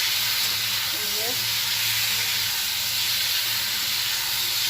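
Fish curry with taro, potato and eggplant, tempered with green chilli, turmeric and cumin, simmers and sizzles in a pan with a steady hiss of steam close by, alone without talk.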